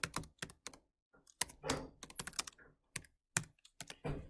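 Keys clack on a computer keyboard as a date is typed into an Access database form, a few quick bursts of close, crisp keystrokes separated by short pauses, with no talking.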